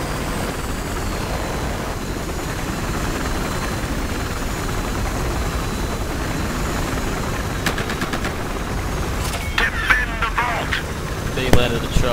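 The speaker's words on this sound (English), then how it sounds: "That's a transport chopper!" Transport helicopter in the shooter game Battlefield Hardline, a steady, loud rotor and engine drone filling the scene, with bursts of gunfire and sharp clicks near the end as a voice talks over it.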